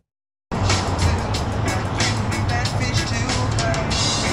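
Street traffic in downtown Boise on a night when bars and nightclubs reopen: vehicles rumble past steadily, with a low engine drone and scattered clatter, fairly close and continuous.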